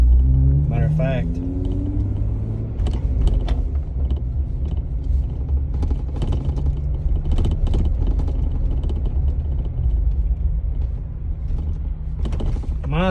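Jeep Wrangler JK soft top with no muffler, heard from inside the cabin: a low, throaty exhaust rumble that rises with revs, with creaks and someone talking over it.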